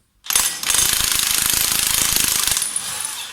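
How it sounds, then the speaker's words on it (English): A cordless impact driver hammers a nut off the clutch hub of a Triumph Trident T160 engine, with one short burst then a sustained rapid rattling impact run of about two seconds, loud and close, with no talk. "if you've got a cordless impact driver, then so much the better, because we just whack it on there"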